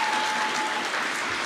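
Audience applause at a political speech at Sciences Po, a dense steady wash of clapping that fills the whole moment, close and fairly loud, with no speech over it.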